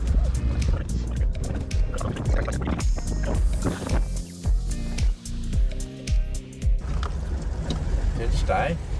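A vehicle engine running on rum putters and sputters unevenly, rough and loud, with wind buffeting the microphone and people talking over it.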